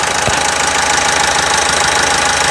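An Opel Astra J 1.6 CDTI diesel engine idles after a timing chain replacement, producing a steady, loud, close-up rhythmic clatter with a constant mechanical hum and no talking.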